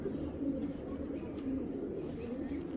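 Low, soft pigeon coos from a loft of racing pigeons, a quiet repeated murmur of several birds close by.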